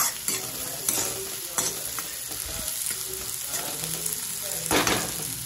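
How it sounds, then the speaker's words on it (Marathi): Sliced onion stir-fried over high gas heat for chicken chilli, a loud, close sizzle broken by repeated rhythmic scraping strokes of a spatula against the pan, with no talking. "आता कांदा टाकून पण मस्त मिक्स करून घेऊ. फास्ट गॅसवरच शिजवायचं आहे आपल्याला."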